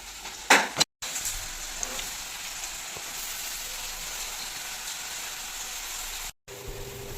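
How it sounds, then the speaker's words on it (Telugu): Mustard seeds, cumin and green chillies sizzle steadily in hot oil, a bright continuous frying hiss with a few brief pops and stirring clinks near the start. "అదే నూనెలో ఆవాలు జీలకర్ర పచ్చిమిరపకాయలు వేసి వేస్తున్నాను"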